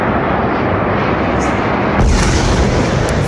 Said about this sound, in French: Violente explosion suivie des cris de terreur et de douleur à l'hôpital Soroka dans le sud d'Israël.